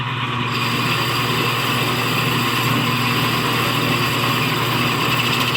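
A Yamaha Mio Soul i 115 scooter engine runs at a steady pace with a continuous buzzing drone, close by, as metal debris inside makes it sound harsh and metallic, with no voices over it.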